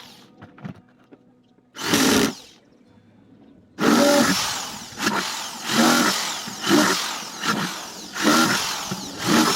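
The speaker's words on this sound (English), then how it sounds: "So I need to drill holes at the bottom for proper drainage." A power drill boring drainage holes through the bottom of a container, with a short burst followed by a run of repeated loud whirring bursts in a steady rhythm, close by and with no talk.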